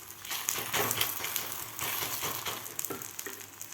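Dahi dhapate flatbread frying in oil on a pan makes a close, continuous crackling sizzle with small bursts and shifts, and no voices over it.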